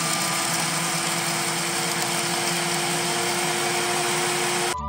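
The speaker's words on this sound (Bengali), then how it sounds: "ঠান্ডা করে এটা আমি জাস্ট একটু ব্লেন্ড করে" An electric blender grinds lightly toasted, cooled cardamom with a steady, high-pitched motor whir that holds at constant volume up close, then cuts off abruptly at the end.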